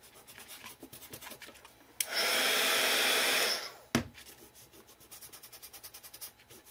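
A heat tool blows with a steady broadband whoosh for about two seconds while blending paint colours on an art card, then cuts off sharply, followed by a brief knock and quiet handling noises.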